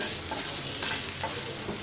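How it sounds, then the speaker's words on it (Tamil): Masala sizzles and crackles while sautéing in hot oil, with a few soft scrapes of stirring, close and steady, no voices. "எண்ணிலே கொஞ்ச நேரம் நல்லா வதக்குங்க"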